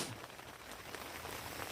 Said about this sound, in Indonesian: Neduh, hujan.